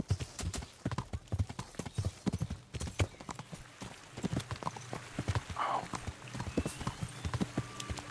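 Steady clip-clop of horse hooves in Kingdom Come: Deliverance, a rapid, even run of hoofbeats lasting the whole stretch, fairly close, with someone speaking faintly now and then.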